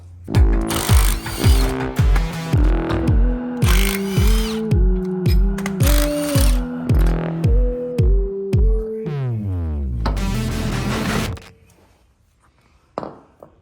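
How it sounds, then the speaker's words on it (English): A hand ratchet with a 12-point 13mm socket removes the three bolts holding a unit bearing to a steering knuckle. Rapid rhythmic clicking comes in repeated bursts, close and loud, then a final fast run before quieting. "now I'm going to be using a 12-point 13mm socket to remove the 3 bolts securing the unit bearing to the knuckle"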